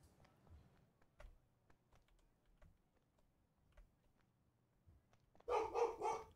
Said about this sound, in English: All the barking.